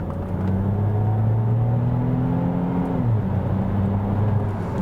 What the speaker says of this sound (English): I like the sound of the bass from the exhaust.